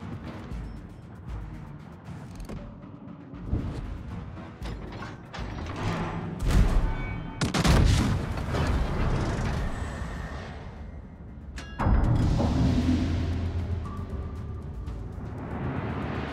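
Warship gun salvos in World of Warships, with the Thunderer battleship firing AP and HE shells among creaking mechanical turret noise, several heavy booming blasts, the loudest around the middle and again near the end.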